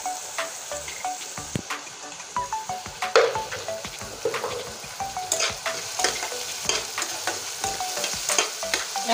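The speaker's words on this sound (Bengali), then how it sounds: "এখন লাল করে ভেজে নেব।" Onion, tomato and capsicum fry together in a pan with a steady loud sizzle, while a spatula scrapes and stirs in a regular rhythm throughout and no one speaks.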